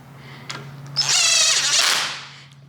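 Power tool briefly buzzing to snug 14 mm bolts on a 350Z NISMO rear differential cover, one loud close burst of about a second after a few small clicks.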